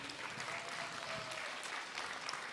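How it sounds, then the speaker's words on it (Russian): Industry crowd applauding at a music album presentation as a composer walks onstage, a steady, fairly distant roar of clapping that carries evenly for the whole stretch, with a faint voice briefly underneath. "Под мощные аплодисменты индустрии."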